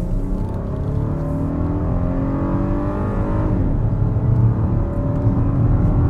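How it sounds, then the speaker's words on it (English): Volkswagen Atlas 2022 SUV with a VR6 engine accelerates, the engine note climbing in a smooth rising whir that swells louder toward the end, heard close from inside without talk. "You can hear that in VR6. It's a great engine."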